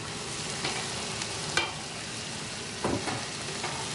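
Carrots sizzle steadily in a frying pan, a dense close hiss broken by a few brief scrapes of stirring, with no voices.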